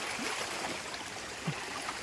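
A short stretch of steady, gentle stream flow in the Konkan countryside, a soft continuous wash of moving water with no voices.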